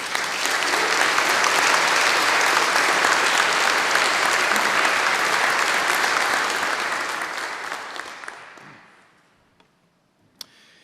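Audience applause fills a commencement ceremony in Pasadena, California, as the guest speaker is welcomed: sustained, dense clapping from a large crowd at steady volume for about eight seconds, then fading out, with a last isolated clap near the end.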